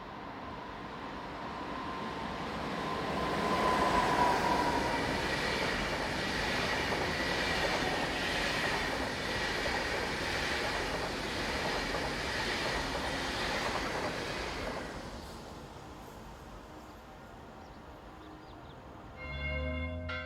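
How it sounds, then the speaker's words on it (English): Swiss class 460 electric locomotive rounding a bend from the Brig direction hauling a Basel to Zurich interregional train, a steady rumble and rolling wheel noise swelling then fading over twenty seconds, with faint squeal and distant church bells. "460069 rounds the bend from the Brig direction, powering the 913 Basel to Zurich interregional service"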